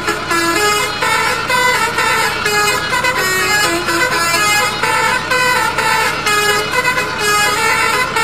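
A small orange excavator truck sounds a cheerful horn in bright, sustained honking tones that shift pitch in a tune-like pattern, loud and continuous throughout.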